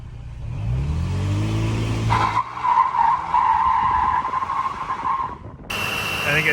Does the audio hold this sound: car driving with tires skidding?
yes